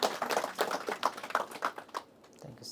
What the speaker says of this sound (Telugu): వారి గట్టిగా చప్పట్లతో అభినందనలు తెలియజేద్దాం